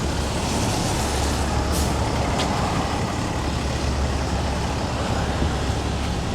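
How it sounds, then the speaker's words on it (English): Steady, loud road rumble from a city bus on a detour toward Eglinton Station in Toronto on a rainy day, a continuous engine and tyre drone with a brief air-brake hiss partway through, no talking. "There's a bus taking a detour up to Eglinton Station that's almost empty."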